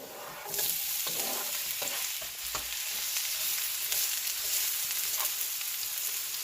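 Onions sizzle steadily in a hot pan, a bright continuous crackle with occasional scraping and stirring clatter, close and fairly loud.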